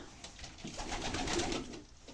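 Pigeons coo softly inside a loft at night, close and fairly quiet, with a swelling cluster of throaty calls in the middle and light rustling around them.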